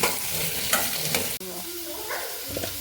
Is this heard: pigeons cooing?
no